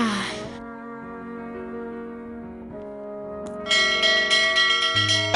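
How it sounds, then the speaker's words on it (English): A bell rings in The Whispered World video game, a sustained resonant tone that fades and then a brighter second strike rings out loudly, with no talk over it. "Are you ringing the bell again?"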